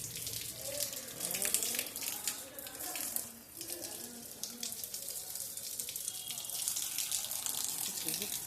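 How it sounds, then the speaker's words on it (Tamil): Dense, steady rushing of heavy rain pouring and splashing nearby in Madurai, continuous throughout with a brief dip midway. "மதுரையில் நல்ல மழை பெஞ்சிக்கிட்டு இருக்குது."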